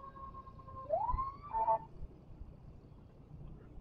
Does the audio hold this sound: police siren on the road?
yes